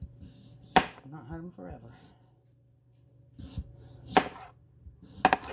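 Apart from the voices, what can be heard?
knife chopping potatoes in half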